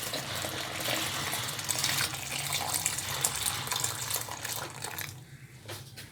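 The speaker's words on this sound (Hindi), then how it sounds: "और तकरीबन इसमें ऐड करेंगे 1 लीटर पानी।" Water pours steadily into a jug holding gram flour, about a litre for kadhi batter, for several seconds, a continuous splashing gurgle that tapers off near the end.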